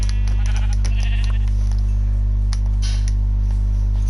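Sheep bleating in Minecraft, several short bleats over a constant low electronic hum throughout.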